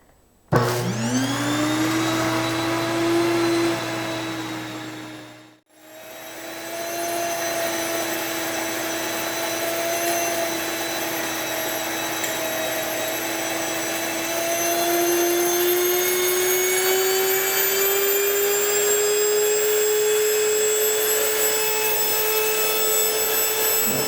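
An electric grain mill grinds whole grain into medium-texture bread flour, giving a loud, steady motor whine that starts abruptly, drops out briefly around five seconds, then runs continuously with a slowly rising pitch.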